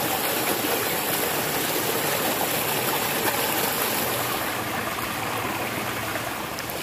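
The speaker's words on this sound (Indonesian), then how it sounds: "lihat batu-batu, airnya ngalir nih, ya ngalir banget tuh" A mountain stream runs over rocks in a steady, full rush of water, close and continuous with no pauses or voices.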